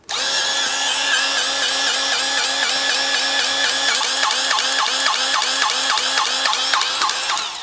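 A Seesii powered grease gun pumps grease into the fittings of a TYM 2515H tractor, giving off a steady, loud mechanical whir with rapid repeating pulses that run without a break for several seconds.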